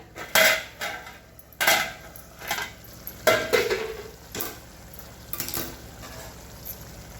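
Masala drumstick curry stirred in a pan: a series of clanking scrapes of a spoon against metal at irregular intervals over a soft background sizzle.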